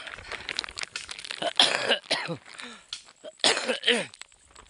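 Two harsh coughing fits, each a cluster of raspy throat bursts, close by amid quiet rustling.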